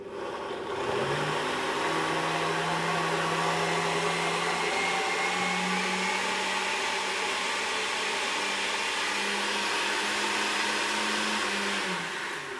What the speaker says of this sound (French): On va commencer à mixer.